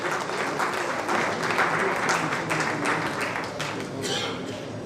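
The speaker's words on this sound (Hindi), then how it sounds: "जोरदार तालियां हो जाएं श्री" Audience applause for Shri Avichal Chaturvedi, IAS, at an education pre-summit MOU exchange in Rajasthan, a steady dense round of clapping from a sizeable crowd, loud and sustained throughout without a break.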